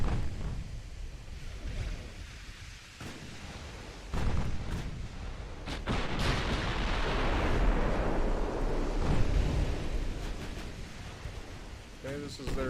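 Naval guns firing in a warship battle in Ultimate Admiral Dreadnoughts, several deep booms followed by a long rumbling roar of shells and sea noise, heard alongside a voice talking.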